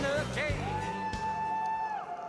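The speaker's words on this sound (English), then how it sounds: "Boy, what a crowd." Stadium crowd at a rally tour stop in Reading, Pennsylvania, whooping and cheering in a sustained roar, with a long rising-and-falling shout standing out above the distant mass of voices.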